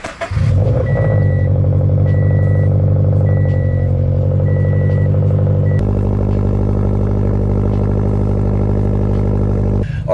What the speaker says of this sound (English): Alright, cold start.